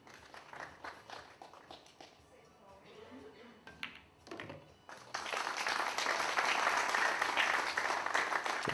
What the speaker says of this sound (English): It's a good round of applause.